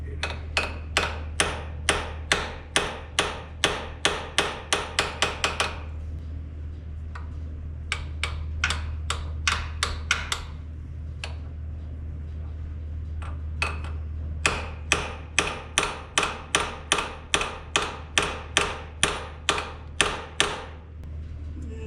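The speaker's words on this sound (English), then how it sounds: "You need a bigger hammer." Sharp, ringing hammer blows on the metal of a 1938 Plymouth truck under restoration, in steady rhythmic bursts, with a short pause in the middle, over a constant low hum.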